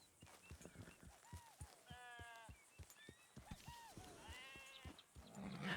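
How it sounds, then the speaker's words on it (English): Sheep in Red Dead Redemption 2 bleat repeatedly in wavering calls, several bleats overlapping, along with clip-clopping hoof steps and faint game ambience underneath. "Wait, do we have sheep now?"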